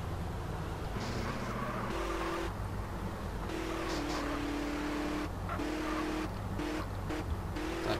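Engine hum of a lowered car driving in the MTA multiplayer mod of a GTA-style game, a steady tonal drone with shifting pitch steps as it accelerates, continuous through the whole stretch with faint talk underneath.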